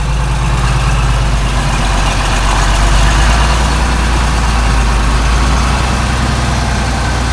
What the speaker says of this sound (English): Now, we just got to get the tractor parked back where it belongs.